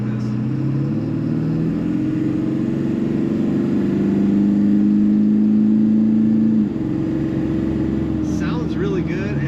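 A 2001 Ford Excursion Limited with a Power Stroke diesel engine accelerates, its deep, steady drone climbing in pitch and holding loud, then easing off near the end.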